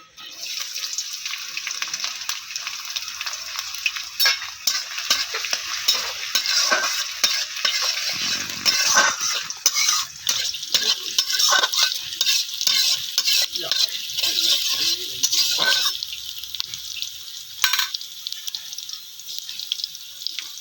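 Chopped green chillies fry in hot white oil in a wok while a spatula stirs and scrapes them, and a steady crackling sizzle runs throughout with scattered metallic clinks.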